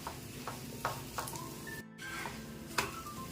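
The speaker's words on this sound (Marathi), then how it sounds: "थोडंसं तेल टाकते मी, त्याने आपला डोसा चांगला भाजला जाईल." Millet (bhagar/varai) vrat dosa frying in a little oil on a pan, a steady low sizzle running throughout with a few light clinks and a brief dropout midway.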